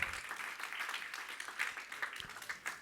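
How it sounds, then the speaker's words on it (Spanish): A church congregation claps hands in praise during a sermon, a dense, sustained patter of many palms heard at a moderate distance, fairly faint and steady throughout. "Dale palmas al Señor"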